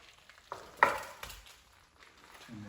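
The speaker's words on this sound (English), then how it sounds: "You can hear that boiling part." A pork roast sizzles inside a DNA air fryer oven, a soft crackling fry punctuated by a few louder pops and spits, close by with no talking.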